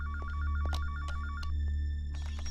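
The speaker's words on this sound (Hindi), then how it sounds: "फोन बजने दो। फोन कट जाएगा।" Close and steady, a phone trills with a rapid warbling electronic ring that repeats in two quick bursts, over a loud low hum and scattered clicks, with no voices.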